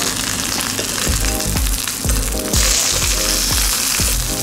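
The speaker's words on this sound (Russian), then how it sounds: "мы сильно разогреваем сковородку, чтобы хорошо обжарить кожу судака и обжарим его на кондированном масле" Zander fillet frying skin-side down in a strongly preheated pan with oil, a loud steady sizzle throughout, with repeated low thumps of background music underneath.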